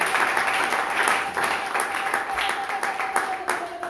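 A church congregation applauding during a French-language Sunday worship service, a steady wash of many hands clapping together under a speaking voice.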